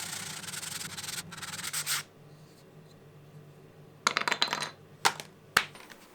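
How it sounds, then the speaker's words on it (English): Small wooden sticks are sanded by hand in steady scratchy rubbing strokes, then the sanding stops and a few sharp light taps and clicks follow, close up with no talking. "It took so much time to sand all those little sticks."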